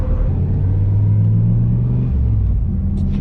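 A car engine hums with a low, steady rumble while driving around town, holding a continuous drone throughout with a slight swell partway through and no voices.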